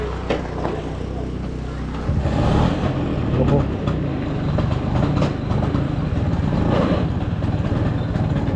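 Scooter engine running steadily at close range, a low continuous drone that grows louder partway through and holds, with a person speaking over it.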